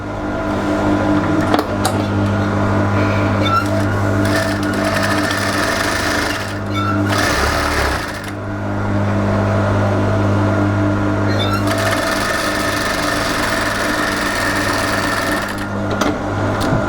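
A sewing machine stitches the side seam of a smocked top in long continuous runs, with a brief pause and restart midway and another short break near the end, loud and close with no talking.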